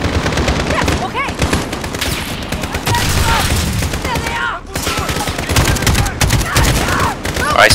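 Dense, continuous gunfire and rapid automatic bursts from a Call of Duty Modern Warfare 2019 campaign battle, loud and close, with explosions and shouted voices mixed into the chaos.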